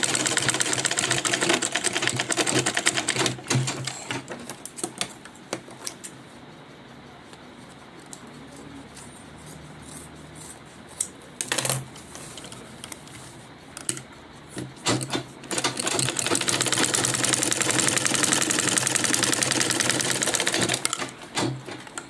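A sewing machine top stitching a zipper pouch purse, running in loud steady bursts of rapid stitching with pauses between runs, close by and alone.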